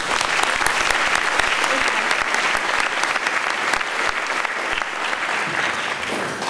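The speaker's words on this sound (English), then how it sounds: "Please give her a warm applause from all of us." An audience at an academic conference applauds a keynote speaker, a dense, loud, steady wash of many hands clapping that carries on for several seconds.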